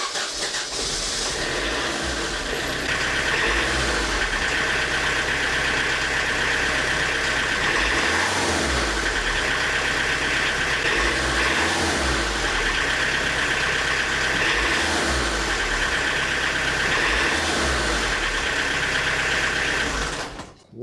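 A diesel engine, with its injection pump timing being adjusted and giving off blue-grey smoke, runs continuously. It keeps a steady, loud, close-up idle clatter broken by periodic heavier throttle blips, with no talking.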